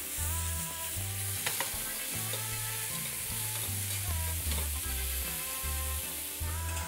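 Meat for bigos sizzles and fries in a pan, a steady crackling hiss with a low rhythmic hum beneath, close up and without talk.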